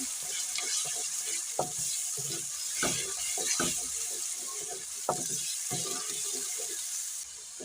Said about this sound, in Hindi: अब डालेंगे टमाटर, 2 बड़े साइज टमाटर चॉप हुई। इसे मिक्स करेंगे।